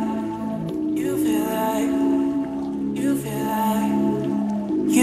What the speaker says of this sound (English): Well, it looks like it's been raining, but it's currently drizzling.